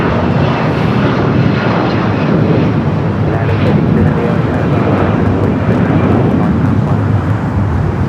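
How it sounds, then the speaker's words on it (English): A SpaceX-operated Boeing 737-800 takes off from the south side at Los Angeles International Airport, its jet engines a loud, steady roar filling the whole stretch without letup. "SpaceX 737-800 heading out for a south side at takeoff."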